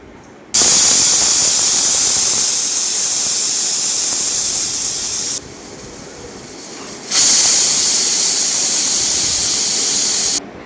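A pressure cooker full of khichuri lets out a loud, continuous steam whistle-hiss that runs for several seconds, drops away briefly, then returns just as strong, close and alone without talking.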